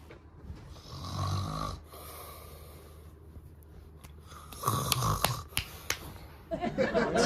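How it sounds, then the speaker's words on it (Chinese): A person snores loudly in a home bedroom at night, with heavy rasping breaths repeating in slow cycles, close and strong, with some rustling between them. "打那呼噜啊，楼下都能听着"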